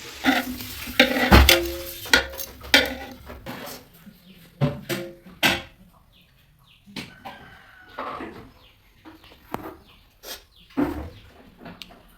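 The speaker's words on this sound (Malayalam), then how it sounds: "ആദ്യം ഇഞ്ചി വെളുത്തുള്ളി പച്ചമുളക് എല്ലാം ചതച്ചെടുത്തിട്ട് വഴറ്റിയിട്ട് പിന്നെ സവാള ഇട്ടിട്ട് വഴറ്റിയിട്ടുണ്ട്" Ginger, garlic, green chilli and onion sauté in a pan for beef curry, with scattered sharp clinks and scrapes of stirring over a soft sizzle, loud up close at first, then sparser and quieter.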